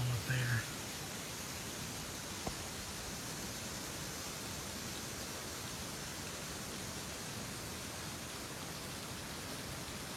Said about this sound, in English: Waterfall up there.